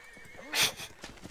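A horse in a competitive strategy video game match gives one short, bright whinny with soft hoof clip-clops around it, all fairly quiet.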